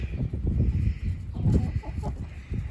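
Chickens kept alongside meat birds in a messy backyard yard cluck in a busy, irregular stream of short calls, close and fairly loud, with no talk over them.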